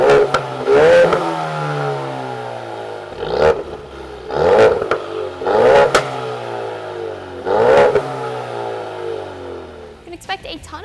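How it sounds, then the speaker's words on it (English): A Ford Mustang EcoBoost with a Borla ATAK cat-back exhaust revs loudly several times, each rise and fall distinct and close, with raspy tone and a few pops as it settles. "It's raspy, it pops on decel, and you can hear turbo noise at all RPMs."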